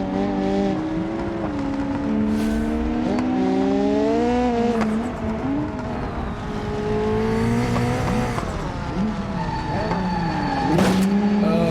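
A car in BeamNG.drive on the East Coast USA map with its brakes locked, tires squealing and skidding over a loud engine whose pitch rises and falls, lasting throughout without talk.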